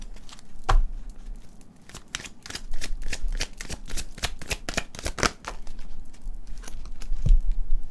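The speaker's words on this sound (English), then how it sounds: "Let me pull one more card for this pile." Deck of playing cards being shuffled and cards pulled, crisp riffling and flicking snaps in irregular bursts throughout, very close and fairly loud.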